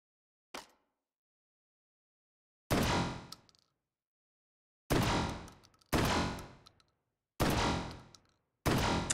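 Shotgun blasts in the VR game Hot Dogs, Horseshoes & Hand Grenades during breaching IPSC training: one light pop, then five loud booming shots with short decaying tails, spaced irregularly about a second or two apart.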